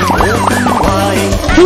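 A toy ambulance gives a short electronic wailing siren, loud and close, rising and falling rapidly over a steady buzzing tone.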